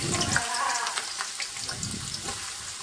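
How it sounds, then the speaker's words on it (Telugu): Chopped onion pieces sizzle steadily in hot oil in a pan for chicken curry, a continuous close frying hiss with no pauses. "ఆనియన్ వేసుకున్నాక ఒకసారి ఆనియన్ని బాగా ఫ్రై చేసుకుందాం"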